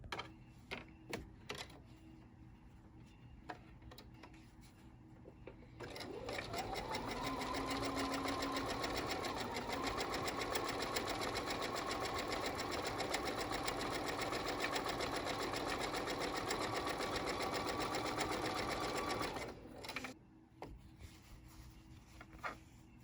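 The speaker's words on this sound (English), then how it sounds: "I will sew and flip, and I'll just keep sewing and flipping until I have strips all the way across" Sewing machine stitching fabric strips onto batting for a quilted mug rug, running in one steady close whirring burst of about fourteen seconds, with handling clicks before and after.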